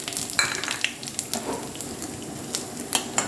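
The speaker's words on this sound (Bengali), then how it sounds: "এবার ফোড়নটা দিয়ে দেবো।" Cumin seeds and dried bay leaf hit hot oil for a dal tempering, giving a steady close sizzle with sharp crackles and pops scattered throughout.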